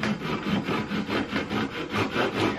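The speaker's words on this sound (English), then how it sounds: "you use the Japanese pull saw to just cut the dowel off right where you stuck it in there" A Japanese pull saw cuts a wooden dowel flush, giving a close, steady rasp of about ten even strokes in quick rhythm, with no talking.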